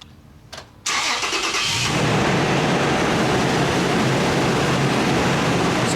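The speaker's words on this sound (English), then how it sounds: "So I'm going to start the truck up now" A truck engine cranks briefly, catches and roars into life, then settles into a loud, steady idle close by.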